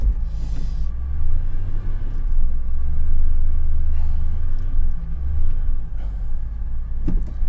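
A Monaco motorhome engine idles and rumbles steadily at close range, a deep continuous low drone with a few faint clicks and knocks over it.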